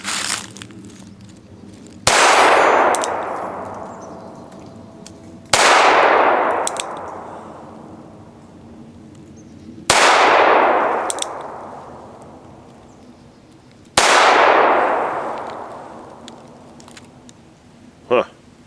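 Four .22 WMR shots from a tiny NAA mini revolver, each a sharp crack followed by a long ringing clang off a steel target, spaced a few seconds apart and heard fairly close with no talking.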